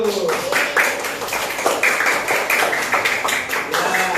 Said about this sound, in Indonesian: ya tepuk tangan buat itu